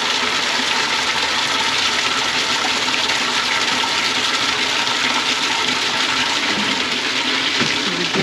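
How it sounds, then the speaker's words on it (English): River water is pumped into a barrel at a ranch house, a loud, unbroken gushing rush that holds steady from start to finish with no voices. "Pumping up water from the river and filling another barrel now."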